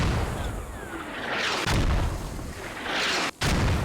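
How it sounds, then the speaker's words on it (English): Mortar fire in the military shooter game Squad: heavy booming blasts and rolling rumble merge into a loud, continuous barrage with a brief cut near the end. "Mortars right on these guys' tails"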